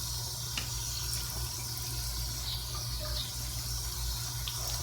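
Tap water runs steadily into a sink as a denim vest is wetted for tie-dyeing, a close, continuous hiss and splash with a low hum underneath.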